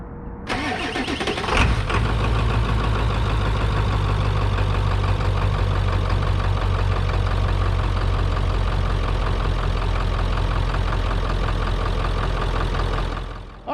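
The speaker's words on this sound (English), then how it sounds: "Let's get a cold start." Ford Powerstroke diesel dually truck with a 4-inch turbo-back exhaust cold starting, a brief crank then a loud, steady, rumbling idle close by for over ten seconds.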